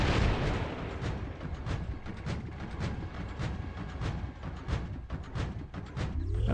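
Rapid bursts of energy weapon fire from a Corona in War Robots arena combat, a steady rhythm of booming shots that overlap into a dense, loud barrage with no talking.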